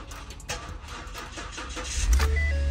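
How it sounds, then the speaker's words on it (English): A police car engine cranks and catches after a jump-start, a short starter whir rising into a low, steady idle close by. "So according to the website, the vehicle starts."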